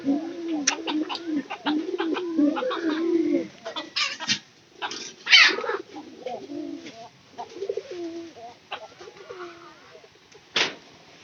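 Pigeons in a loft where the birds have started laying eggs coo close by in repeated throaty bursts, several overlapping, with a few sharper flutters and knocks between calls.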